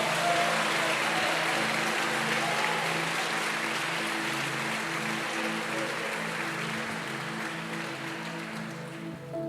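A worship congregation at Lagoinha claps along with sustained broad applause over a low steady tonal hum, the sound fading slightly toward the end.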